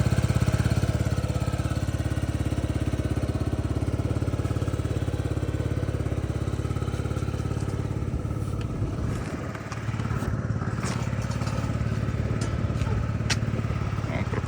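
A Yamaha Jog scooter engine idles steadily up close, a continuous putter with a brief dip partway through, then settles back to its even running.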